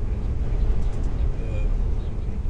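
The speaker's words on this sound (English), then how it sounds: "What car noise you can hear is in the background." Low, steady road rumble inside a moving 3/4 ton Dodge diesel pickup truck, a continuous droning hum with no distinct events.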